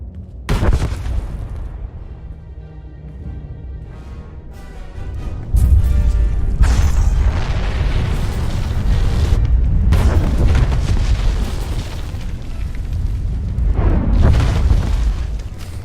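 A building collapses in a huge explosion in the Star Wars: The Old Republic game, with a sharp initial blast, then a long sustained roar of rumbling, crashing debris and repeated heavy booms.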